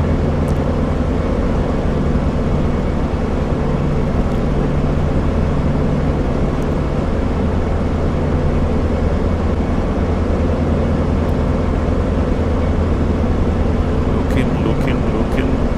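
The P-47D's radial engine in the DCS flight simulator drones loudly and constantly, a thick low rumble that holds steady throughout with a few faint clicks late on.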